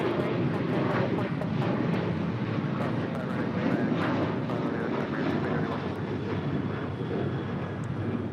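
An American Airlines Airbus A321 jet arrives at LAX from JFK, its engines a steady broad roar heard throughout, loud and continuous with some wind buffeting on the microphone.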